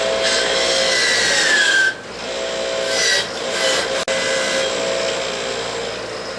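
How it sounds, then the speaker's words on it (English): An angle grinder bites steadily into a metal horseshoe, a loud continuous abrasive whine lasting several seconds, briefly dipping as the pressure changes and resuming close and harsh. "I need to grind this real quick"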